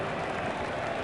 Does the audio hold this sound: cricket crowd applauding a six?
yes